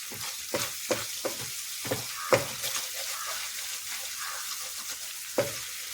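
Milk and coconut oil sizzle steadily in a pan, a dense close crackle running throughout, punctuated by several sharp clinks of a utensil against the pan, with no voices.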